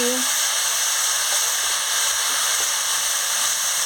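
Vegetables sizzle steadily in a pan while being stirred, a constant hissing fry at moderate level with a few faint scrapes.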